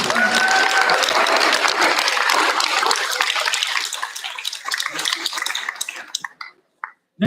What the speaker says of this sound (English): let's have a round of applause for the parents